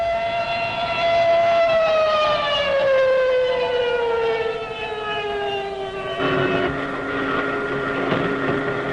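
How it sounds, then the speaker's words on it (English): A loud World War II air raid siren wails over German fighter airfields, holding a long tone that slowly falls in pitch, then shifts to a rougher, lower wail, with no voices. "Alarm sirens wail over the German fighter fields and pilots sprint for their planes."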